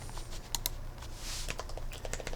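Typing on a computer keyboard, a quick irregular run of close key clicks over a low background hum, with no talk.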